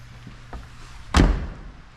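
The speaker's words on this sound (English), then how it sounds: "Really good door shut noise." A car door on a 1986 Nissan 300ZX slams shut once, a single solid close-up thud with a brief resonant tail over a faint background hum.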